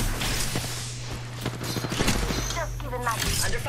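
Video game gunfire crackles in rapid rattling bursts during a squad shootout, loud and close, mixed with other game effects and a voice-like layer.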